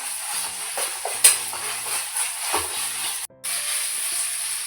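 Ginger garlic paste fries with onions in a hot pan, giving a steady hissing sizzle with a few sharper crackles. A brief stirring scrape is heard, then there is a short dropout and the sizzle resumes.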